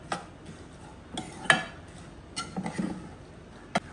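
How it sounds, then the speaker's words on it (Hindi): Sheerkhurma ingredients being lightly roasted in a pan on a low gas flame, with soft intermittent scraping and clinks of a spoon stirring against the pan, quiet and close with a few sharper taps. "गैस को थोड़ा सा ऑन करेंगे और इसे हल्का हल्का सा भून लेंगे"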